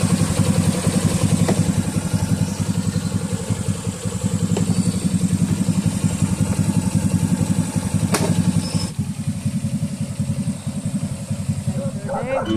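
An Easyride 150N motorcycle engine, recently repaired after burnt wiring, idles with a steady close-up rhythmic putter throughout, with a few faint clicks and a voice talking over it.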